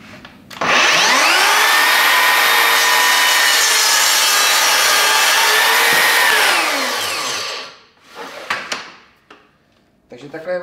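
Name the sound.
Mafell K 85-18 cordless carpentry saw cutting wood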